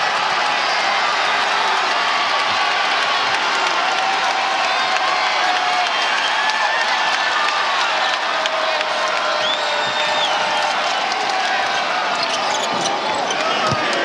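Home crowd roaring and cheering at a Texas at West Virginia college basketball game during a blowout, a loud sustained din of shouts, whoops and clapping with squeaks and bounces beneath it.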